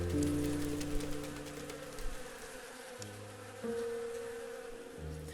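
Honeybees buzz steadily around a group of about thirty well-developed beehives set in uncultivated countryside, a dense, continuous drone with shifting tones as bees pass closer and farther, no voices present.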